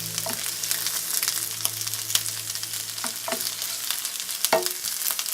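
Vegetarian apple and sage sausage and red onion frying in a pan, a continuous crackling sizzle with occasional sharper pops and stirring knocks, close up, no speech.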